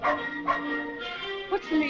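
A dog in a 1954 film yips and whimpers in short, repeated bursts, close and fairly loud, with no talking over it.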